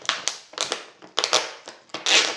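Packing tape is ripped off a parcel during a cross-stitch supply unboxing, loud close tearing and crackling in four sharp bursts, each trailing off, with no talk.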